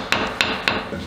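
A hammer strikes a nail in a wall, three sharp evenly spaced blows and then a softer fourth tap, loud and close, with no talking.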